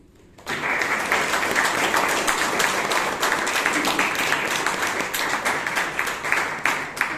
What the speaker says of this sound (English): An applause to all the speakers